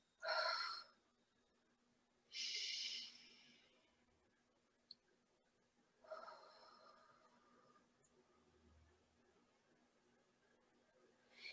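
Deliberately exaggerated breathing, with loud, close breaths and sighs separated by a pause, then a softer breath trailing off in a quiet room.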